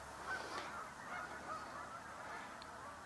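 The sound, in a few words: flock of geese flying in and honking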